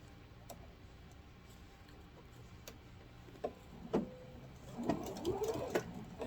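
A sewing machine stitches fabric for a grocery bag, a faint, even ticking rhythm of needle strokes with a few sharper clicks and a louder rustle of handled cloth toward the end.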